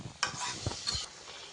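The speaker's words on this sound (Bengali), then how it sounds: "সবগুলো লাউ দিয়ে ভালো করে নেড়ে চেড়ে নিচ্ছি" A spoon stirs bottle gourd pieces and spices in a pan for a Bengali gourd-and-shrimp curry, giving a few quick scraping strokes over a faint sizzle, brief and close.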